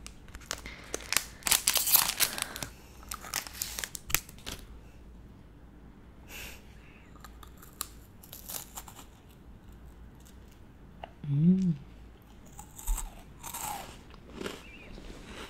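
Crinkly wrapper and crisp bites of a Binch chocolate biscuit being unwrapped and eaten up close, with rustling bursts early on and scattered crunchy chewing afterward, soft and intimate in a quiet room.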